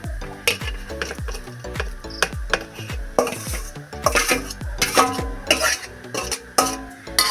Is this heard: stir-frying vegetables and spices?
yes